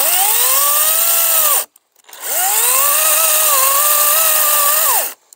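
A Makita 18V battery-powered chainsaw cuts firewood in two loud, close bursts of whining motor, rising as each cut starts and dropping off at the end, with a short pause between them.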